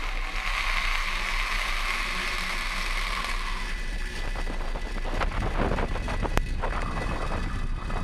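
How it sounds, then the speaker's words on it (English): Falcon 9 engines roar at liftoff on a Starlink launch: a heavy, continuous rumbling blast with crackling texture that grows rougher partway through, heard from a distance. "Lift off of the Falcon 9"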